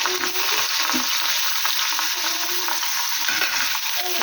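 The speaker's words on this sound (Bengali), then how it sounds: "এই যে মাছ ভাজা হয়ে গেছে" Fish fries in oil in a wok, a continuous loud sizzle and crackle with occasional stirring scrapes and no voices.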